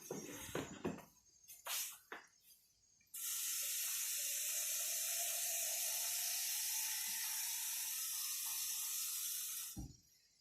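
Tap water runs in a steady, close stream for about six seconds while cassava leaves are being cooked with chopped garlic; a few brief kitchen clatters come before it. No one speaks.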